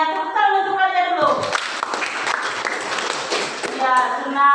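Children in a classroom music lesson burst into a short round of hand clapping that swells and fades, framed by a teacher's voice speaking before and after.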